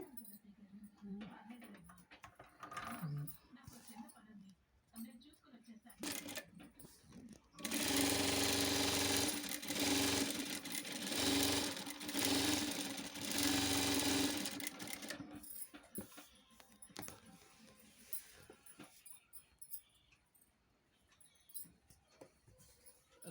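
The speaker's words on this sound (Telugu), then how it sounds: "రెండు షేప్ బెల్ట్లు కలిపి ఒకేసారి స్టిచ్చింగ్ చేసేసుకోండి" A sewing machine stitches two blouse shape belts together in one pass, a loud continuous whirring run of about seven seconds, with quieter handling noises and faint sounds before and after.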